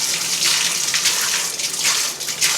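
Hot water running hard from a tap for a white vinegar cleaning mix, a loud continuous gushing rush heard alone.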